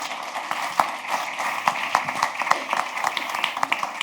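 Applause from a conference audience at a national internship event, a steady patter of many hands clapping at moderate level for about four seconds, with no voices over it.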